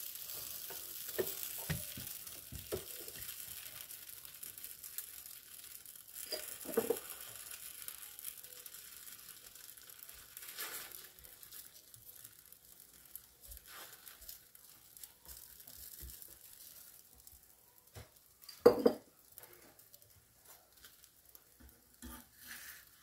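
Gözleme filled with cheese and spinach cooks in a hot oiled pan, giving a soft, steady sizzle with occasional stirring and utensil clicks, one louder scrape near the end, no talk.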